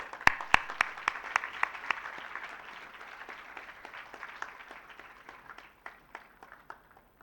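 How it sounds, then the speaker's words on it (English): An audience at a stage event applauds an honored guest: scattered sharp hand claps ring out at first, then settle into a thin, uneven patter that gradually fades; no talk over it. "we should give a huge round of applause to her"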